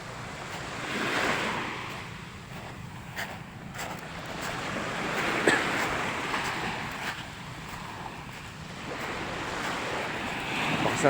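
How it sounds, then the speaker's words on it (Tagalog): Waves wash and break against the shore at Agsalin Fish Sanctuary, Oriental Mindoro, in steady surges, with wind buffeting the microphone throughout; no voices. "tapos yung mga kalaskas lang ng alon, yan, mga hampas"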